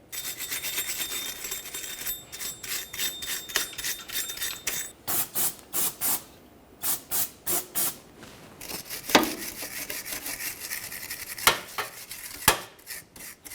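Scrubbing and wiping at the driveshaft mounting areas of a Buick Enclave, with bursts of short rasping strokes, some quick and rhythmic, others scattered, close and fairly quiet with no voices.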